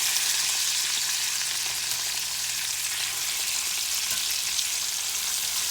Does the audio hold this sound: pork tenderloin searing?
yes